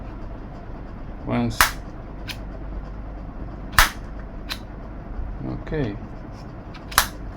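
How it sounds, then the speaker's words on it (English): The spring-loaded air brake on a Freewing F-16 V2 model jet snaps open and shut in several sharp, close mechanical clacks, with brief whirring actuation and a voice speaking between them. "This is very nice, actuated, spring-loaded air brake."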